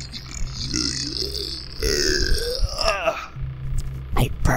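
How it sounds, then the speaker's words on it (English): A long, deep, gurgling burp drags on for a few seconds at close range, followed by a shorter grunt-like belch, loud and alone against faint background noise from a game. "I burped, ladies and gentlemen."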